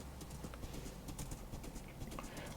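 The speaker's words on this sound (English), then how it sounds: "You don't have to run, horse, you just have to walk." Minecraft horse hoofsteps, a steady clip-clop of walking hooves heard close over a constant game background with no talking.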